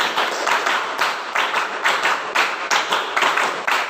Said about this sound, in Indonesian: Tepuk 1, tepuk 3, tepuk 5 3 kali